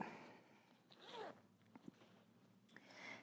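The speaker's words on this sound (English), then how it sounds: "I'm gonna go ahead and open my zipper on my jumpsuit." A jumpsuit zipper being opened while sewing a lining, heard as a quiet, close ripping zip that rises to a brief burst and then trails off into soft handling rustles.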